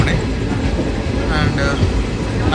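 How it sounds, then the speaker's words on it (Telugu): An overnight passenger train in motion, heard from inside a sleeper coach: a steady loud rumble with rattling and faint squeals, a continuous close-up din. "ట్రైన్లో అయితే ఎక్కాము"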